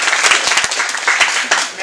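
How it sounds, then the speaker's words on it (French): Audience clapping at a live debate event, an uneven burst of hand claps with distinct sharp hits that rises and dips over a couple of seconds. "j'avais prévu un tonnerre d'applaudissements"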